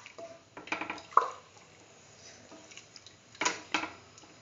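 Washed, soaked rice stirred into a mung bean mixture in a pan: soft, scattered clinks and wet scrapes of a spoon against the cookware, faint and close.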